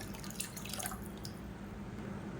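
Water is poured into rasam in a pan, a brief trickling splash in the first second that quickly fades into a low, steady background hum.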